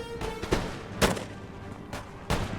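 Musket volley fire from a unit in Empire: Total War, several sharp cracks spaced unevenly over a soft background rumble, moderately loud with no voices.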